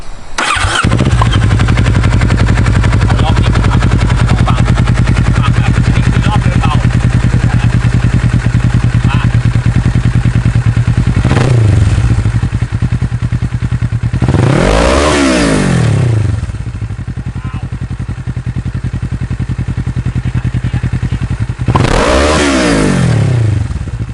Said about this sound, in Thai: ลองฟังเสียงท่อกันดูเนาะครับผมว่าเป็นยังไง